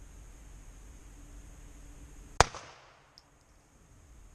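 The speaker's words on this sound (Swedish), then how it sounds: "Du har precis skjutit ditt första skott." A single sharp gunshot crack from a .22 rifle rings out once, followed by a brief fading tail and near silence.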